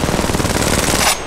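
A rapid automatic burst of gunfire in Apex Legends Mobile, loud and close. It sounds as a continuous rattling stream of shots that cuts off abruptly just before the end.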